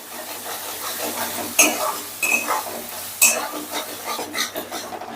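Ground spices including coriander and dried chilli powder being stirred in a pan, a spatula scraping and clinking in a few distinct strokes over a soft sizzle, close and moderately loud.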